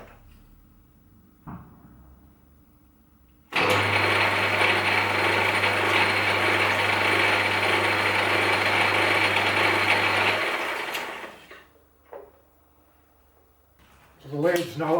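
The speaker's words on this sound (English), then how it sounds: "This is the lathe in back gear at 130 revolutions," A Myford S7B metal lathe runs in back gear at 130 RPM, its loud, steady mechanical whir and gear noise with a low hum starting abruptly, holding for about seven seconds, then winding down, with faint knocks around it.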